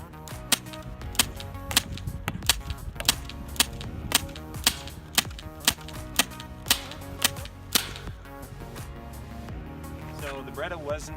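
A Beretta airsoft pistol fires a rapid series of sharp, evenly spaced cracks at targets 100 feet away, about a dozen crisp snaps over a constant background hum.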